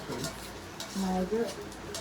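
Soft scraping and clinking of a spatula stirring potato bhaji on a tava, with brief bits of voice overlapping midway.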